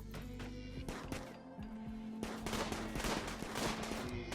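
Gunfire in a RimWorld colony fight: a rapid spatter of overlapping shots and bursts, fairly close, over steady background music tones.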